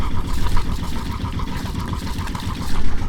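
Sailboat engine idling at tick-over with cooling water spilling from the exhaust, a steady low throbbing rumble with a continuous wash of splashing water, close and fairly loud.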